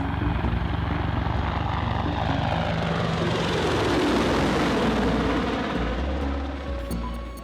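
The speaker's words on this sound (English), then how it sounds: "An Apache helicopter flies over a neighborhood in Baghdad." An Apache helicopter passes over a Baghdad neighborhood, a broad rotor and engine roar swelling toward a loud peak at mid-pass and then fading slightly as it moves away, with no voices.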